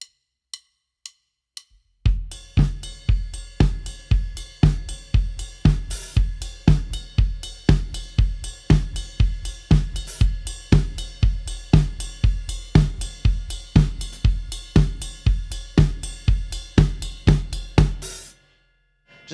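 A drum kit grooves through a song, with bright ride-bell accents on the upbeats over kick and snare. A few sparse clicks count in before the dense, steady pattern runs at full volume, then stops abruptly. No one talks.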